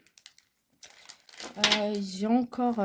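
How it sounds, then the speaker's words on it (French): A paper wrapper is crumpled by hand in a few soft, scattered crinkles, then a voice takes over and the rustling fades under it. "je vais jeter le papier"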